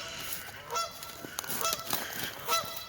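A goose honks a run of short, nasal calls at moderate distance outdoors, several in quick succession with a faint wash of background noise beneath.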